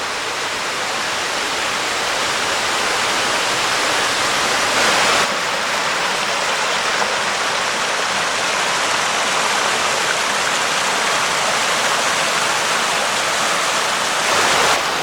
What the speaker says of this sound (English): Waterfall after waterfall.